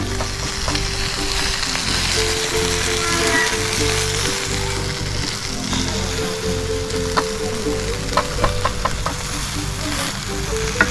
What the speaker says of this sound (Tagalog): Ito na ang ating iniihaw. Medyo naluluto na siya.